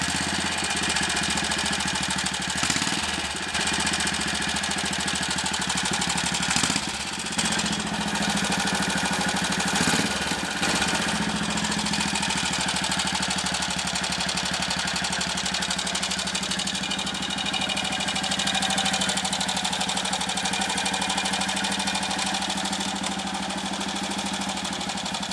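A Royal Enfield Model G 350 Trials motorcycle engine runs steadily at idle for a long stretch, loud and close. The rumble is constant with a faint mechanical knock, and a few brief sharper bursts come early on.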